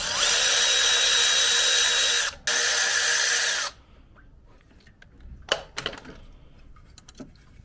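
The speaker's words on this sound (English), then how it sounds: "so I'm gonna take these bolts off." A power tool whirs loudly and steadily at close range while removing bolts from a Subaru STI EJ207 engine, pausing once briefly before stopping. Quieter metallic clinks and rattles of the loosened parts follow.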